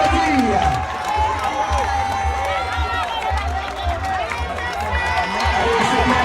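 Roadside crowd at a Tour de Guadeloupe cycling race finish in Routhiers, clapping and cheering as a rider comes in, with a loud announcer speaking over the steady applause.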